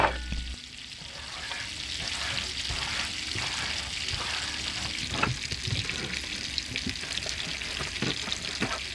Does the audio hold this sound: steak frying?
yes